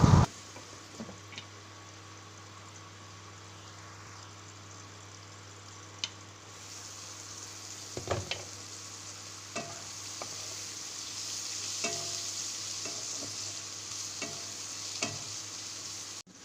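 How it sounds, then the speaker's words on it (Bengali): Mixed vegetables salted and frying in a pan for chowmein give a steady close sizzle, with occasional sharp clicks and scrapes of a spatula pressing and stirring them, and no talking. "তো এইদিকে আমার সবজিটা ভাজা হচ্ছে"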